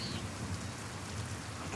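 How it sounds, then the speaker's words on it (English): Steady rain in the video game Pentiment, falling across a muddy medieval setting: a dense, continuous hiss of drops with soft low rumbling beneath, heard alone without voices. "The rain is turning everything to mud."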